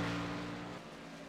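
Race car engine spooling up on the track at Auto Club in a racing video game, a steady loud droning engine tone that holds for about a second before easing slightly.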